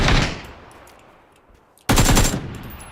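Machine gun fire in a shooter video game: a loud burst that fades, a short quiet, then a second sharp burst of rapid shots, close and punchy with no talk.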